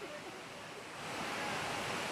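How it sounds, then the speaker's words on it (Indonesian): Steady broadband rush of a pristine, untouched waterfall, heard as a continuous, fairly soft roar that swells slightly toward the end, with no speech. "Di belakang saya dapat pemirsa saksikan air terjun yang cantik dan perawan ini"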